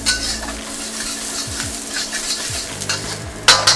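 Ginger and green onion whites sizzling in a hot wok, with steady frying hiss, repeated scrapes of a utensil stirring against the metal, and a sharper clatter near the end.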